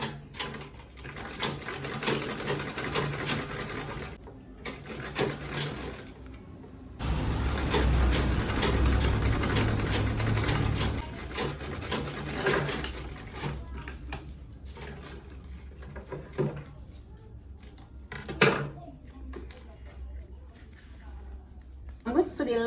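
A sewing machine basting the lining of a quilted tote bag with boxed corners, running in bursts of rapid mechanical stitching, loudest for several seconds midway, while someone talks throughout.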